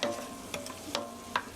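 Ketchup stir-fried in a hot pan for cabbage rolls, giving a soft steady sizzle with a few light scraping stirs of a utensil, close and fairly quiet, with no talking.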